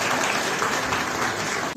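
Loud, dense applause filling a university auditorium during a welcome ceremony, a short steady burst that cuts off abruptly at the end.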